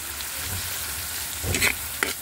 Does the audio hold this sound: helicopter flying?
no